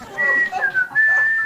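A person whistles a short tune in clear, bright bursts, imitating a shopkeeper standing in the doorway of a shop and whistling while waiting for customers.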